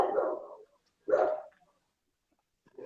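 A dog barks outside in two separate bursts, each a short cluster of loud, fairly close barks, with quiet gaps between them and the start of another bark at the very end.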